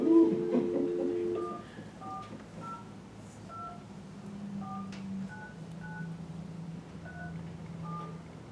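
Conference-call setup on a telephone keypad at a city council meeting, with a series of short, evenly spaced dial tones stepping through different pitches over a low room hum after a brief loud burst at the start.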